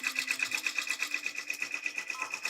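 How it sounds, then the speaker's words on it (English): A multi-needle embroidery machine stitches a tack down line, its needle pounding in a fast, even, repetitive rhythm, close and steady throughout with no talking. "we are going to stitch the tack down line"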